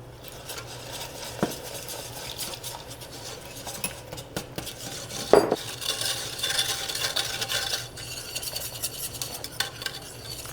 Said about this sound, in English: Slowly start to add the cream.